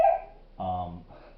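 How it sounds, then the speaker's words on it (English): A dog whines in a few short, high, tonal cries, with a clear whimper in the middle and a fainter one just after, close to the listener. "My dog's whining."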